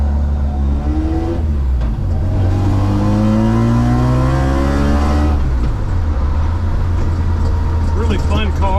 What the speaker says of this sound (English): This motor has a street port, so y'all can probably hear that.